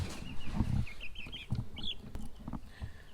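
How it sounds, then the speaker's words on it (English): Several buff Orpington chickens cluck and murmur nearby in an enclosure, with brief higher chirps and scattered shuffling noises. "So we've got 5 buff Orpingtons here, and they're ready to go outside."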